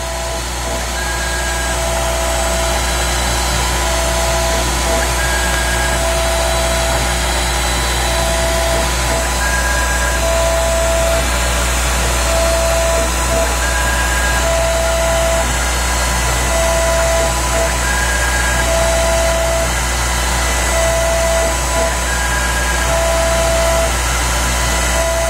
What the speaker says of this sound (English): So you can see the CNC is doing the inside profile for the Game Boy screen.